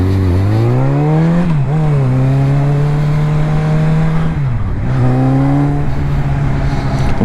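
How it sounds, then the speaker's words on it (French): A Suzuki Bandit 650 motorcycle rides at full throttle, its engine note loud and close, climbing steadily through the gears with brief dips at each shift before pulling high again. "je suis en full sur ma Bandit 650"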